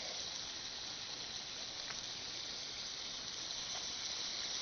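Ribs cook over a twig-fired rocket stove with a steady, even sizzle and hiss that holds without a break, with no voices.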